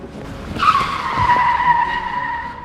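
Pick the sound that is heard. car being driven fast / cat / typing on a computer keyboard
car being driven fast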